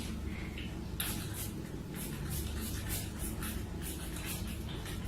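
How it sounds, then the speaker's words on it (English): Several short hissing bursts of a can of hair foam, fairly soft and close, over a low background hum. "Still spraying the foam"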